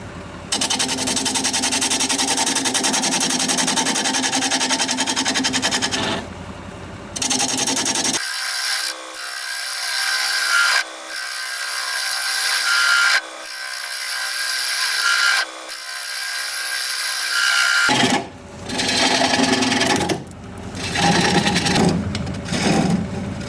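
Wood turning on a lathe at around 650 rpm, a continuous close scraping and cutting roar with a low mechanical hum, broken by several short pauses and shifts as the tool is lifted and reapplied.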